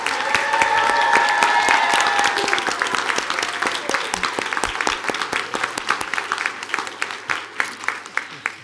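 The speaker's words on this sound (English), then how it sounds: "Let's give Jimena a round of applause." Board meeting attendees in Duncanville ISD applaud student Jimena, starting with thick, sustained clapping from the room that gradually thins into scattered individual claps toward the end.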